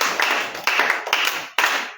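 Congregation applauding during a church worship service, with a steady wash of many hands clapping and several surges as fresh rounds begin, loud and close, with no talk over it.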